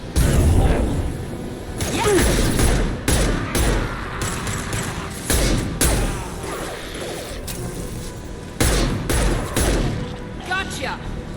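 Heavy gunfire in the video game Mass Effect 2, with dense bursts of shots and crashing impacts running continuously under game voices, loud and close throughout.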